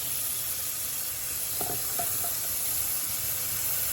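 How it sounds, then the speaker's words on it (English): Cool tap water runs steadily into a pot of just-boiled eggs, a continuous hissing splash close by, with a few faint clinks partway through. "I put me some cool water in there."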